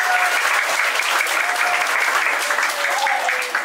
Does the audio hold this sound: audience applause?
yes